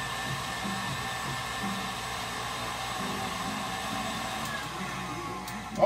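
Electric hand mixer creaming cranberry orange cake batter, a steady close whirring drone that runs unbroken for several seconds and rises briefly at the very end.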